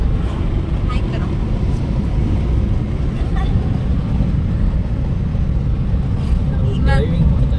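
Steady low road rumble of a car driving along a highway, constant and close, with brief voices talking over it.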